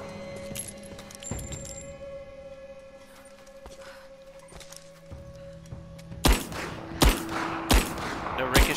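Video game gunfire from Rise of the Tomb Raider: a handful of sharp, loud shots crack in quick succession near the end, following a quieter stretch of ambient game sounds and faint effects.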